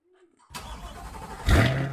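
A car engine cranks and catches, first a low rumbling turnover, then a louder surge as it fires and settles into a running idle, all in about two seconds after near silence.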